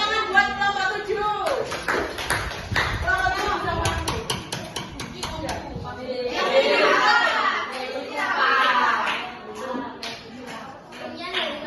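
A class of students claps for a group in an Indonesian school science lesson, with a burst of many hands in quick uneven rhythm alongside children's voices, then a second round of applause with chatter.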